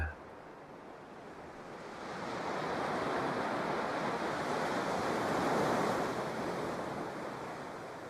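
Ocean waves roll onto a beach in a broad, steady wash of surf. The sound swells louder partway through and then eases slightly, with no other sounds standing out.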